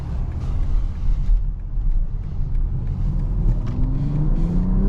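A 2024 BMW X6 40i pulls away under acceleration, its engine a deep, steady rumble that climbs in pitch toward the end, heard from inside the cabin with no one speaking.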